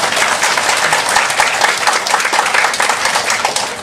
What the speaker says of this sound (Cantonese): 咁你仲唔俾個掌聲多謝帶你嚟嘅朋友？